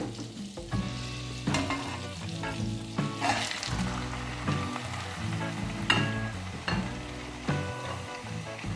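Half a kilo of diced meat sizzles and fries steadily in a hot pan, with occasional stirring scrapes and clinks; no talking.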